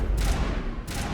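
Two sharp gunshots fire in Mass Effect, each a bright, loud crack with a brief tail, spaced about two-thirds of a second apart.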